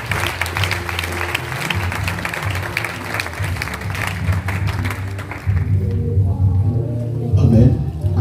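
Church congregation applauding and cheering to acclaim the Lord, a dense, steady wash of clapping and voices lasting throughout, swelling louder near the end.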